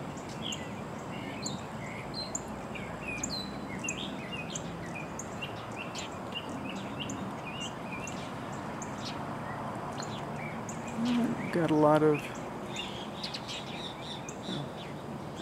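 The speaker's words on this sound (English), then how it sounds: "I'm hearing the Kiskadees." Great Kiskadees call at a hawkwatch site amid steady birdsong and insect buzz, with a brief louder burst of calls near the end over continuous outdoor ambience; a voice speaks briefly.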